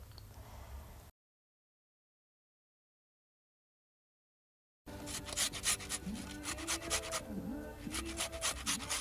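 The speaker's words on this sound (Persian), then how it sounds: "یه مدل رو که رنده میکنیم برای پوره و پختن" Firm winter tomatoes are rubbed against a hand grater outdoors for puree, rhythmic rasping strokes close by after a long silent gap, with only faint ambience before it.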